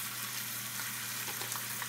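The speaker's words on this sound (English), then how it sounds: "Now just let that sizzle for about 10-15 minutes and check it." A whole seasoned chicken sizzles steadily in a skillet, a faint, even crackling hiss that runs continuously with no talk.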